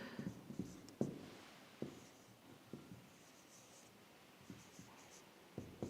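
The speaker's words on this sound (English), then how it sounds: "I'll just write it here." Marker or chalk writing a date on a classroom board, a quiet run of soft taps and scratchy strokes with brief gaps between them, with no voice over it.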